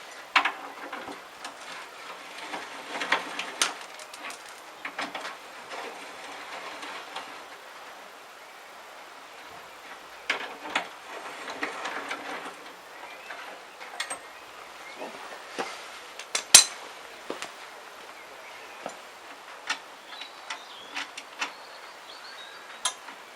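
A 13 mm fender bolt being undone on a Yamaha XVS 650 motorcycle during rear fender removal gives faint, intermittent ratchet-like clicks with scattered sharper taps, heard up close and without speech.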